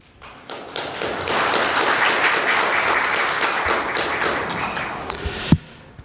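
Applause from the audience at a Korean industrial-park CEO forum as guests are introduced: a dense wash of clapping rises after a quiet start, holds steady, then thins out with a few louder thumps near the end.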